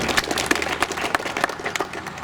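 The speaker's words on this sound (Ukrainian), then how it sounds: "Оплески героям, оплески на дорогу." Crowd applause rings out at a roadside ceremony for an open regional road cycling championship, dense steady clapping from many hands with a few sharper claps poking through, close and continuous.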